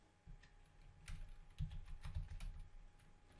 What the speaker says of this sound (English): Begin typing,